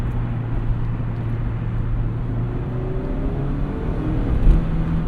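A Mazda Miata ND1 four-cylinder engine pulls in second gear toward redline, a steady droning hum with a rising tone heard from inside the car, moderately loud and without talk.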